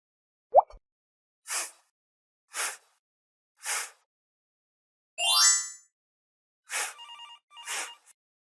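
A telephone ringing alone in several loud, evenly spaced bursts, each short ring followed by a pause, with a brief chirp at the start and a different warbling tone near the end.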